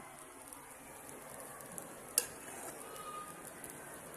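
Fried rice stirred in a pan, with faint, steady sizzling and soft scraping throughout and a single sharp clink of utensil against the pan midway, heard fairly close and without speech.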